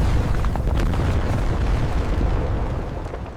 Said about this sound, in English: Precision explosions free the diamonds from their rocky prison.